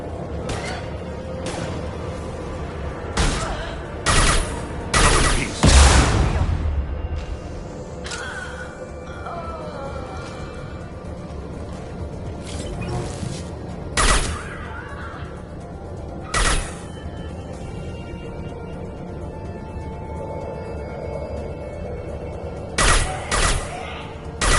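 Sporadic gunfire in Mass Effect 2: scattered bursts and single shots ring out at irregular intervals over a low ambient bed, with a louder cluster of shots near the start and a few more later.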